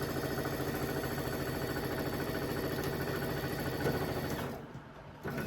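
A sewing machine stitches a quilt with a steady, fast mechanical whir and rhythmic needle chatter close by, running continuously before slowing and stopping near the end, as a few spoken words come in briefly.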